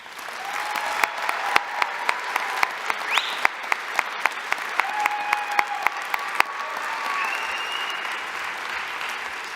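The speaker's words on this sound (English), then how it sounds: "Let's congratulate all of our graduates with a round of applause." A graduation commencement audience applauds steadily in a large hall, dense sustained clapping with sharp individual claps standing out, and a few cheers rising over it.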